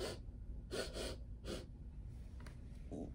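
A voice imitates a rabbit sniffing, producing a few quick, quiet breathy sniffs in short bursts separated by pauses, close and soft.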